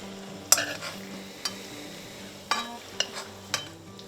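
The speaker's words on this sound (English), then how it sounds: "Want to keep the pan pretty hot, keep a good sizzle." Sandhill crane breast sizzles steadily in a hot pan, a continuous frying hiss punctuated by a few sharp clinks and scrapes of stirring, close and moderately loud with no talking.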